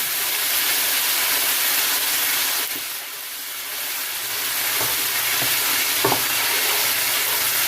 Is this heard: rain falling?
no